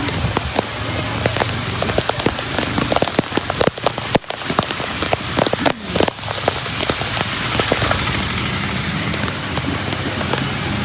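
Heavy early-morning monsoon rain pours down steadily in Dwarka, a dense continuous hiss of drops pattering on surfaces with sharp close splashes, loud and unbroken with no voices.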